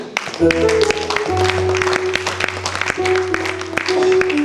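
Church congregation applauding Jesus during a sermon, dense steady clapping filling the room, with sustained musical tones underneath and some voices mixed in.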